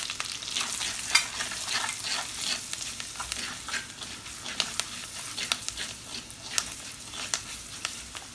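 Potato masala bhaji frying in a pan while a spoon stirs it, a steady sizzle broken by repeated scraping strokes, close and with no voices.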